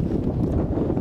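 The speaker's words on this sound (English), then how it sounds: "Have some of the strong gusts, I think, up to 30 miles an hour in some areas across the state" Strong gusty wind buffets an outdoor microphone with a steady low roar, a loud continuous rumble with no talk over it, during a windy evening with gusts near 30 miles an hour.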